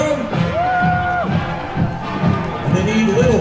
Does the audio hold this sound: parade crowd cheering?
yes